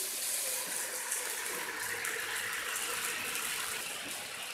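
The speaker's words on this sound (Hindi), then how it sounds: "और अब इसके अंदर मैं पानी ऐड कर रही हूँ।" Water is poured into a cooking pot of chicken in a home kitchen, producing a steady, continuous gushing splash that stays even and close for the whole stretch, with no talk.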